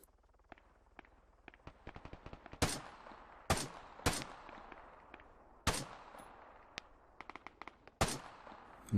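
Gunfire cracks out in Arma 3, a sparse series of sharp shots: several loud reports with ringing tails spaced a second or so apart, mixed with fainter distant pops and clicks in between.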